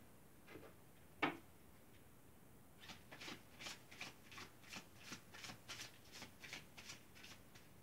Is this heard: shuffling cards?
yes